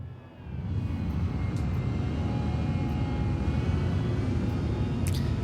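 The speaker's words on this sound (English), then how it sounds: "Was that a nice flyby or what?" A spaceship in Star Citizen sweeping past during a Cutter race, a broad, steady engine roar that swells in quickly and holds loud and sustained, with a few faint high blips near the end.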